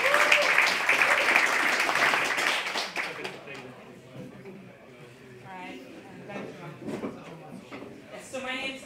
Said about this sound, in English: applause for Lee Boonstra